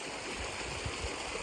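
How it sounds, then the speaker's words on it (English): A mountain stream runs steadily nearby, its continuous rushing and gurgling water loud and close from start to finish, with a few soft splashes. "scooping, running water from the stream"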